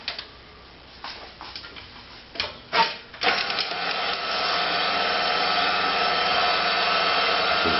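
Food processor grinding tough rabbit meat in a French kitchen, a few short stop-start pulses and then a continuous steady whirring motor drone, loud and close.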